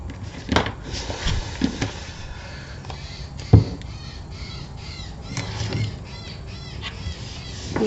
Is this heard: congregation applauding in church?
no